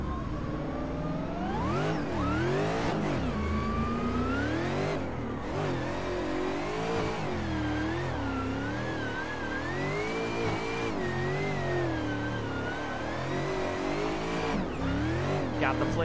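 Drift car engine in a VR racing game, an Austin Meeks ATSV Pro FD build, revving constantly with wavering pitch as the throttle is blipped and held through slides, loud and continuous throughout.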